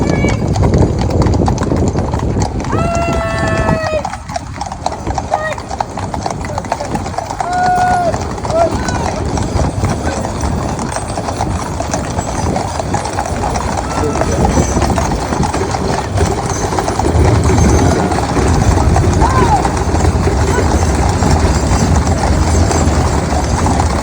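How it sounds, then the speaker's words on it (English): Royal guard cavalry horses clip-clop past outside a palace in London during a parade, with a steady stream of loud, close hoofbeats amid crowd noise and talking, plus a brief whinny. "Oh wait, shh, the cavalry is coming."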